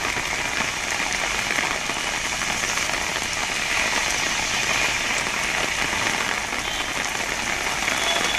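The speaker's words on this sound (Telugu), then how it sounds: "గత 2 గంటలుగా నగరంలో కుండపోతగా వర్షం కురుస్తోంది" Heavy downpour over a city, a dense, steady hiss of rain falling on surfaces that holds constant and loud throughout, with no voices.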